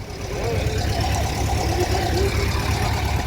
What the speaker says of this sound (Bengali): ও সিলিন্ডারের ইঞ্জিন সারাক্ষণ চলছে কানের কাছে ডিস্টার্ব হয়ে যাচ্ছে